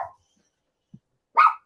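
A dog nearby gives one short bark, then after a pause a louder, sharper bark, with quiet silence between and no talk.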